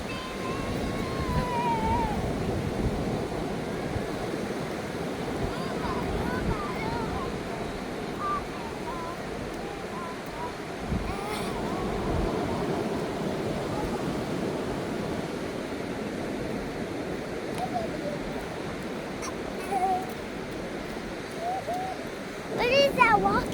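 Ocean waves rolling onto Seminyak Beach in Bali on a rainy day, a constant soft surf wash with wind noise, while people talk nearby throughout.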